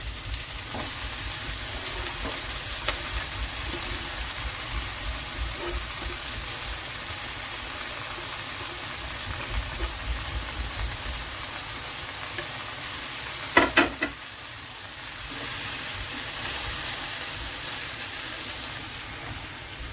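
Shredded cabbage and carrot stir-frying in a pan for a Kerala-style Chinese salad, a low steady sizzle with occasional faint clicks and a brief cluster of louder clatters partway through.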